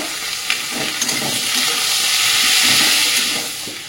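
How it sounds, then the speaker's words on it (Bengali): Vegetables and eggplant fry in a pan with a loud, continuous hissing sizzle that swells and stays dense throughout, heard close with a few faint clicks and no voices. "এবার বেগুনটা দিয়ে দেবো, ভাজা ভাজা করে দেবো"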